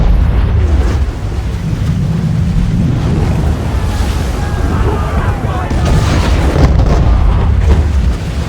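Naval battle in Assassin's Creed 3 with broadband booms of cannon fire over a constant roar of ocean waves and wind, loud and sustained throughout.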